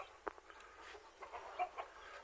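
Rhode Island chickens and roosters clucking in a farm coop, a few short faint clucks scattered over a quiet background, no talk.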